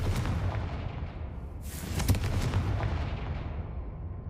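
A fiery blast spell goes off in the Hogwarts Legacy video game, a sudden bright burst that rumbles and decays over a low battle din, with no voices.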